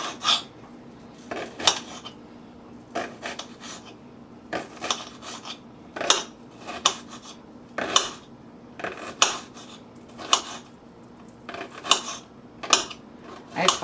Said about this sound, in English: I suppose you can cut your onions any way you want to.